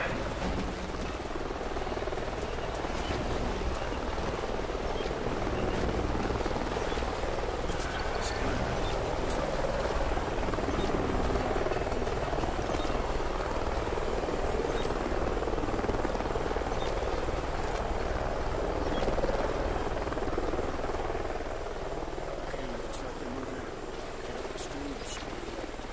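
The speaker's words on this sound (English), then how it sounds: "Sounds like a chopper's up ahead of us." A helicopter's steady rotor thumping and engine roar in the video game Call of Duty: Ghosts fills the scene continuously, loud and close, with a broad rumbling wash throughout.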